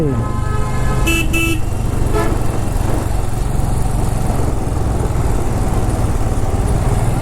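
Trucks on a highway rumble in a steady roadside drone while horns give several short honks near the start, one after another.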